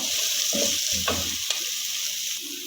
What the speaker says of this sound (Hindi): यहाँ पर हमने फलियों को 4 से 5 मिनट तक भून लिया है।